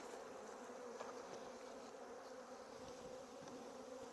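Honey bees buzz in a dense, steady drone around an open hive, a continuous close swarm hum with no pauses.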